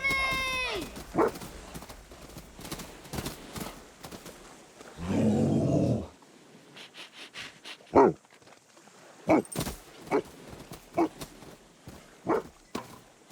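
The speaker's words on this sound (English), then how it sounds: "That dog's dangerous." Dangerous dog growling and barking on an island, a sharp rough burst followed by a string of short barks and yelps spaced out over several seconds, with voices briefly mixed in.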